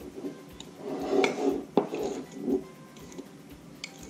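Melted butter is stirred in a pan with a utensil, giving soft scraping and clinking strokes with one sharper knock, close and quiet, and no one speaking.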